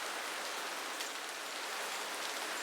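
Steady rain falling outdoors during a plein-air watercolour, charcoal and chalk painting session in the Petite Creuse, an even close hiss of drops with no voices.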